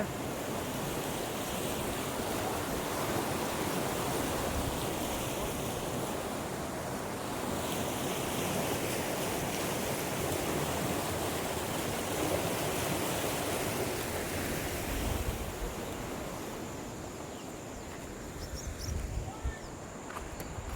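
The Shimsha river roars in a broad, continuous wash of rushing water close by, loud and steady throughout, with some wind buffeting the microphone.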